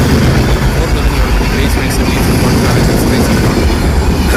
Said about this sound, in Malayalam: ഈ ട്രെയിൻ കടന്നു വരുന്നത് സൗത്ത് ഡയറക്ഷനിൽ നിന്ന് നോർത്ത് ഡയറക്ഷനിലേക്ക്